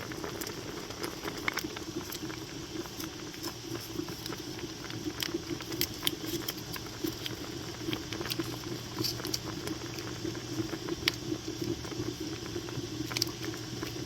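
Peach preserves mixture with pectin boiling in a pot, a steady bubbling patter with small pops throughout, close and even, with light stirring.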